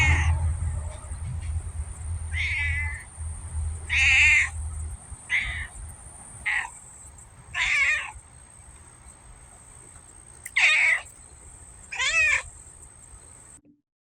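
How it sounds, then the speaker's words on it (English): A cat meows several times in short separate calls over a steady low background hum, each call fairly loud and clear, spaced irregularly across the stretch. "Buttons the Cat from Buttons for America provided the show with this empowering message to the American voters."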